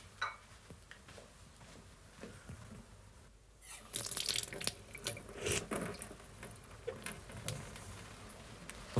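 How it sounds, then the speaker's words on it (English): A kitchen water tap turned on and left running, a steady rushing stream with clattering splashes in a sink, starting quietly and growing louder partway through, with no speech. "Well, I'll just check the taps."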